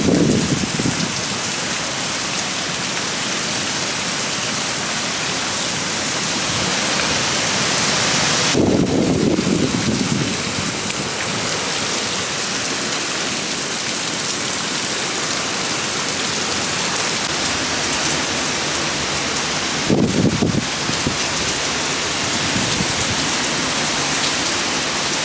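Heavy hurricane rain pours steadily and loudly for the whole stretch, a dense unbroken hiss with a couple of brief louder gusts or bursts, and no talk.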